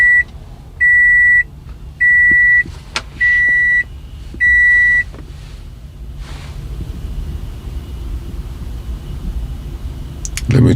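Four evenly spaced electronic beeps from a 2017 Toyota Camry during key remote programming, each about half a second long, clear and close over a low background hum, with faint clicks between them.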